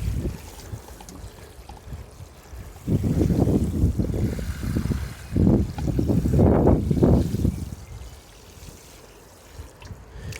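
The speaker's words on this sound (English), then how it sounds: "We're going to give them a drink just to wash that growing medium in." Water pours from a can or hose onto newly planted courgettes outdoors, washing growing medium into the soil; a steady splashing trickle runs in bursts for several seconds, with breezy wind noise around it and no talking.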